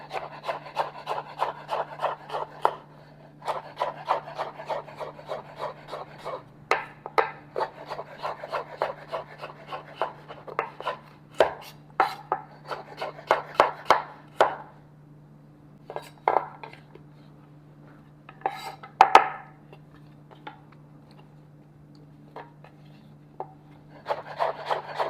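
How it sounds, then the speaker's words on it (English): Knife slicing vegetables into julienne strips on a board, quick rhythmic runs of sharp cutting taps with short pauses between bursts, close and clear over a faint steady hum. "now I'm going to cut them here in julienne strips"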